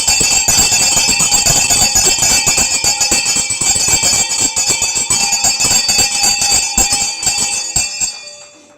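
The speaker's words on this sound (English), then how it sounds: "You may please ring the bell." A market opening bell is rung at a ceremony, producing rapid, continuous loud metallic clanging that keeps going for several seconds before fading out at the end.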